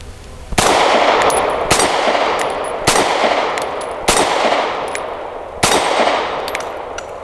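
A Grand Power P1 Ultra pistol fires Freedom Munitions rounds: five loud, sharp shots about a second apart, each ringing out briefly, with no talk.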